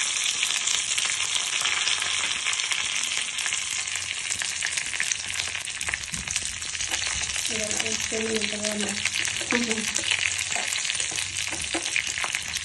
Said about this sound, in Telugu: తెల్లగడ్డ అది కొంచెం సేపు ఫ్రై అయిన తర్వాత కరివేపాకు